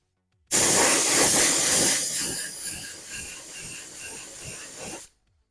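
Continuous spray-paint hiss from an aerosol can coating a Losi Mini T RC car body converted for oval racing, steady and close, loud at first then slightly softer for about four and a half seconds, with no talking.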